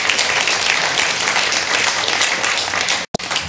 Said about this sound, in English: a round of applause for all the panelists who've come today